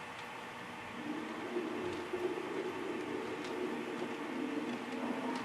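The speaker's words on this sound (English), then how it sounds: "our steam engine, which has been waiting in the yard, is ready to couple up to the freight train sitting on the main line" A steam locomotive waits to couple onto a freight train on the main line, its steady hissing, rumbling rail noise droning on at moderate distance without any talk.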